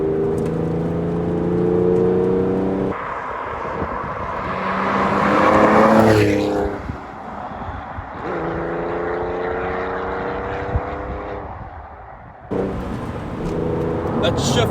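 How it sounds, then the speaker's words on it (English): A 2004 Porsche 911 (996) Carrera 4S Cabriolet with a manual gearbox revs up and shifts gears, its engine note climbing and dropping in steady harmonic sweeps with brief pauses between shifts, heard from inside the car. "it revs like a brand new car"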